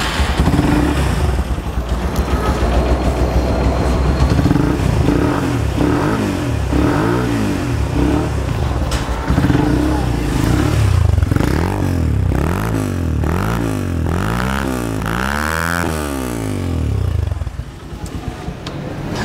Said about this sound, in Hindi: इसके साथ अभी फ़िलहाल तो जेन्युइन मफलर लगा हुआ है, उसके साथ भी इसकी साउंड बहुत ज़्यादा ऑसम है।